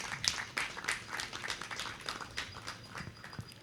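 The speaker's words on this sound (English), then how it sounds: "Give him a great clap." Scattered clapping from a seated festival audience at a meet-the-director session, a loose burst of hand claps fairly close, uneven and thinning over a few seconds.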